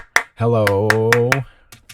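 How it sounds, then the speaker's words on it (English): Sharp hand claps recorded into Cubase, one before and several spaced beneath a sustained sung voice, then a few softer claps trailing off at the end, close and fairly loud. "I just recorded my voice with clapping"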